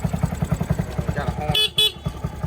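A fuel-injected Grom-style pocket bike idles with a fast, steady putter, then its horn gives two short, close toots over the running engine.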